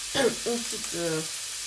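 Mushrooms fry in olive oil in a large pan, a steady bright sizzle running throughout with a voice speaking over it in the first second.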